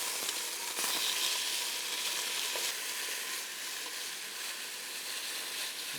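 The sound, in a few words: pieces browning and sizzling in a pan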